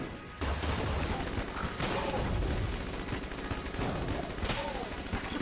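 The Heck Blaster in Enter the Gungeon fires nonstop, a dense rapid stream of gunshots that keeps going without a break throughout.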